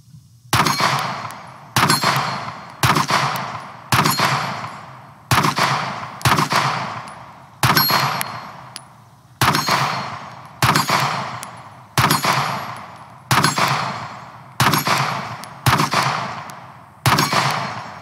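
A Sig Sauer P635 X-Macro pistol fires a long run of loud, sharp shots outdoors at roughly even intervals, each one with a short ringing decay. No one speaks.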